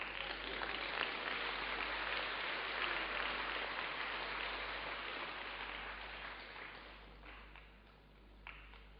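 Faint audience applause at a church sermon, a steady wash of many hands clapping heard from a distance, slowly tapering toward the end.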